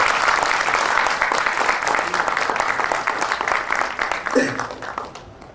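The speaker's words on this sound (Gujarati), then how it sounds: "એકવાર જોરદાર તાળીઓનું તોફાન કરી દઈએ" An audience at a mushaira poetry gathering breaks into loud, sustained applause, dense clapping filling the hall and slowly thinning toward the end. A voice speaks briefly under the clapping.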